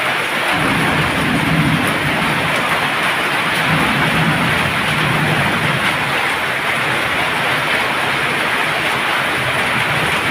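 Heavy typhoon rain from Typhoon Carina pours loudly and steadily, with deep thunder rumbling underneath throughout, dense and close with no pause.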